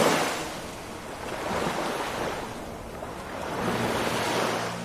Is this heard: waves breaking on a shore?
yes